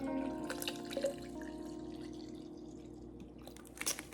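Water poured from a container into a cup holding a scoop of powder, a steady close trickling and splashing with a couple of brief clinks.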